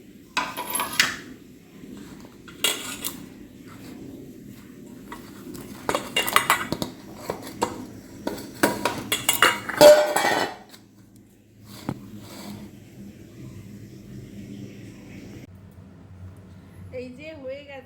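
Asafoetida is worked into dough for hing kachori in a bowl, producing close, uneven bursts of clattering and knocking against the bowl. The noise stops midway, leaving a quieter stretch, and a voice can be heard at times.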